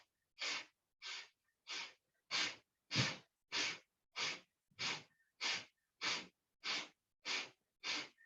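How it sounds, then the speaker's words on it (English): Rapid yoga breath-of-fire breathing: thirteen forceful, evenly spaced breath bursts about every 0.6 seconds, close and loud, with no talking. "breath of fire."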